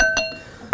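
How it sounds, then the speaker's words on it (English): A whisk strikes the side of a bowl while stirring a sauce for a beef stir fry, giving a few bright metallic clinks, one near the start and another at the end, with quiet gaps between and no talk. "Give that a whisk."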